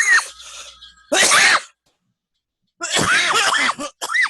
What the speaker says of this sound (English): I hope I didn't cough in anybody's ear.